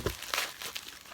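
A tightly sealed, plastic-wrapped package being pulled open, giving a short burst of close crinkling and tearing.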